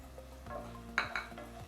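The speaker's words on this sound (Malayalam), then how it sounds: "ഇനി ഒന്ന് ഇളക്കി റെഡിയാക്കാം." Vegetables and chopped tomato for masala Maggi noodles are stirred in a pan, making soft scraping and a couple of light clinks over a faint background sizzle, with no voices.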